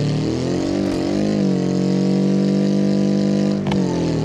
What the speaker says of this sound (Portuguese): Agora eu triturei o motor do carro